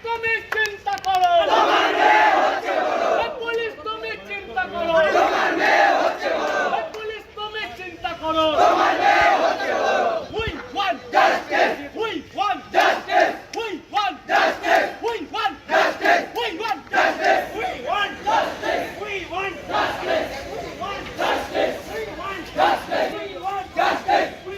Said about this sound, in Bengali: এরপর আন্দোলনকারী ছাত্র সংগঠনের সদস্যরা সেখানে তুমুল বিক্ষোভ দেখান।